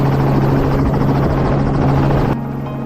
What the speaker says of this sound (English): Helicopters appeared above the most heavily affected areas to conduct aerial surveys.